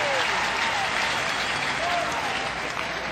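Crowd at a 2019 NCAA Baseball Tournament game between Mississippi State and Miami applauds steadily, a sustained wash of clapping and cheering under a faint voice.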